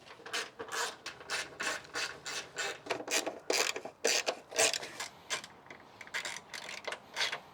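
Rusty, mismatched bolts come out of an AE86 Levin under restoration, heard as a fast run of scraping, rasping ratchet strokes at close range with no talking.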